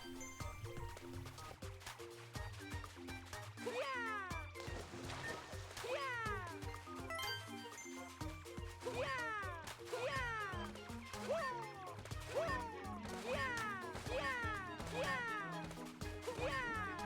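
A cat token in Bowser's Fury gives repeated meows over bouncy game music with rapid sliding chimes and sparkly effects, the cat calls recurring every second or so.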